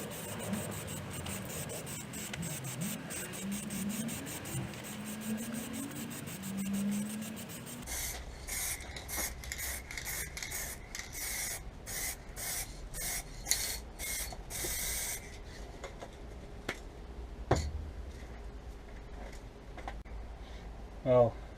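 A spray gun lays a wet coat of clear lacquer onto Suzuki Bandit 1200 motorcycle side panels, heard as rapid, repeated hissing bursts in a regular rhythm. Muffled voice-like sounds and shuffling come first.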